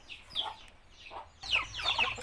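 Backyard pet chickens cluck eagerly at feeding time, close by and fairly quiet, with a few scattered calls that swell into busier overlapping clucking toward the end.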